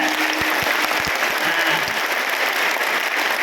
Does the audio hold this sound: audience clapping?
yes